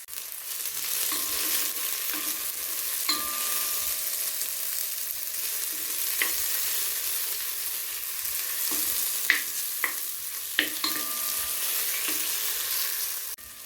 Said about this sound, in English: saute the onions and garlic just till they're translucent